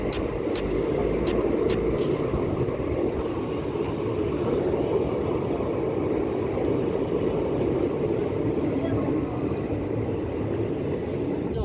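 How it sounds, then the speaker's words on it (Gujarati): A train passes on a railway line, producing a continuous low rumble that holds steady and fairly loud for the whole stretch, with a few faint higher clicks early on. "અને અહીંયા આવી છે રેલવે."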